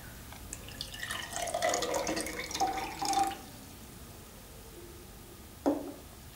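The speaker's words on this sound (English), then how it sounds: "For making a musical glass, we'll take a glass, pour some water into it." Water from a tap or jug runs and trickles into a drinking glass in short bursts, close and fairly quiet, followed by a single sharp clink and a few drips.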